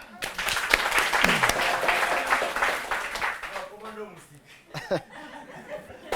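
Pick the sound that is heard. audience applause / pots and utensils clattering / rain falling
audience applause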